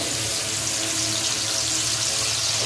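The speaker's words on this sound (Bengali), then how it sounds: "তেল গরম হয়ে গেছে, মাছ ভেজে নেবো।" Small morola fish frying in hot oil in a kadai make a steady, close, dense hiss with a faint crackle that holds evenly throughout, with no talking.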